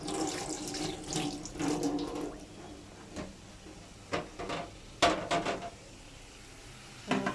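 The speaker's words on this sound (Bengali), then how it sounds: "এটাতে এই যে মশলা ছিল থালটাতে ধুয়ে রেখে দিব।" A spice-stained plate washed under a running kitchen tap, bursts of splashing water come and go in several short spells, with light clinks of the plate between them.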